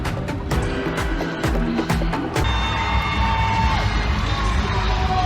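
A large crowd at a women's college volleyball match between Nebraska and Michigan State inside the Breslin Center arena roars steadily, with sharp claps and shouts early, then settling into a sustained loud cheer filling the hall.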